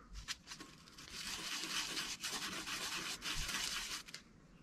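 A fishing pole part is rubbed back and forth on sandpaper, giving a close, continuous scratchy rasp with brief breaks between strokes; no one speaks.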